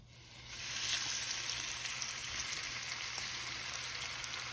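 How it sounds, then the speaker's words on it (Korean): Potatoes frying in a generous pour of cooking oil in a preheated pan, a soft continuous sizzle with faint crackles, steady and fairly quiet throughout. "달궈놓은 팬 위에다가 식용유를 넉넉하게 붓고 감자를 올립니다"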